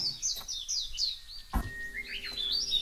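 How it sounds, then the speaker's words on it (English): Songbirds chirp and trill in a wood, sweet rising and falling phrases repeating close by, with one sharp knock partway through. "you do not hear how sweetly the birds are singing"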